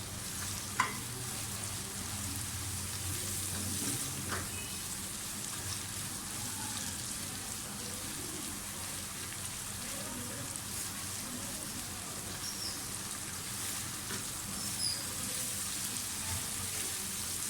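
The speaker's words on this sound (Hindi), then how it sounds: "साथ ही इसमें लहसुन अदरक का पेस्ट डाल दें। इनको थोड़ा सा भूनें।" Onions with garlic ginger paste fry in a pan, a steady soft sizzle with faint occasional stirring clicks, no talking.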